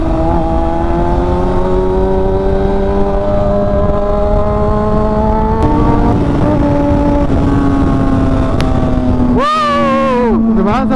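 A motorcycle on a morning breakfast ride in Lingayen, Pangasinan, with a loud, steady engine drone whose pitch climbs and shifts through gear changes, then a sharp rev at the end, wind noise throughout.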